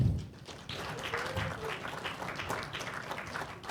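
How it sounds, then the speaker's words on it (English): An audience of food growers and producers at a New York food policy gathering breaks into a brief, moderate round of scattered clapping that carries on steadily through the room, with faint voices mixed in. "Clap if you're a food grower or a producer."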